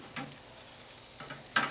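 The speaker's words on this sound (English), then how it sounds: "We just want to give them a mix around" Garlic herb shrimp get stirred on a hot charcoal grill, producing quiet sizzling with three short scraping bursts, the last one sharpest and loudest near the end.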